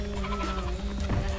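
Goats bleat in the Spyro: Ripto's Rage video game, a close, wavering animal cry that holds steady over a loud, dense game soundtrack for the whole short stretch.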